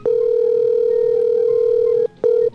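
A telephone ringback tone for an outgoing call sounds as one long, steady, loud electronic tone lasting about two seconds. A short gap follows, then the tone begins again.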